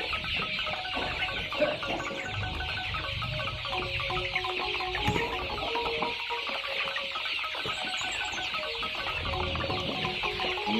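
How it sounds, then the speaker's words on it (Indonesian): Joper chickens cluck continuously inside a coop in the morning, a dense, steady chorus of soft clucks and calls from several birds at moderate distance, with no talking. "ini kondisi ayam dalam kandang pagi ini ya"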